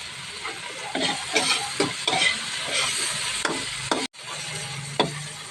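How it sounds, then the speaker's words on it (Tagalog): Onion and garlic sauté in a hot pan for a dish of odong noodles with sardines, with a steady loud sizzle and repeated scraping stirs of a utensil, close up. "ang paggisa ko ng sibuyas at bawang"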